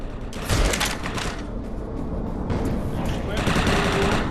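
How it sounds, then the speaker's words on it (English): Rapid machine gun bursts in the shooter game Defiance, loud and close, firing in two long volleys separated by a short pause, with game effects underneath. "Machine gun."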